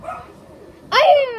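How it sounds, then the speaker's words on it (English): A dog gives one sharp, yelping bark near the end, loud and close, after a stretch of faint background talk. "I hear a dog."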